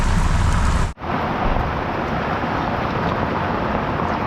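Heavy rain pouring down in a loud, steady roar, briefly cut off for an instant and then continuing unbroken, with no one talking.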